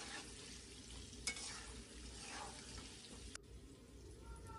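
Food seasoned with salt and turmeric fries in a pan until browned, giving a faint, steady sizzling hiss throughout with a couple of small clicks.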